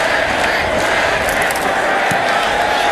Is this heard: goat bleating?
no